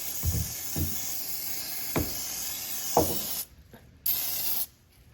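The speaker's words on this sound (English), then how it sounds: "we're gonna spray it." A steady close aerosol hiss runs for several seconds with a few soft knocks underneath, cuts out, then sprays again in one short burst, spraying the engine compartment of a 2022 Yamaha WaveRunner with a TR-1 engine.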